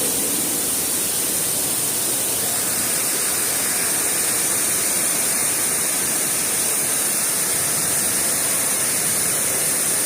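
A creek waterfall pours in a continuous, dense hiss and rush, steady and fairly close, with no break or other sound over it.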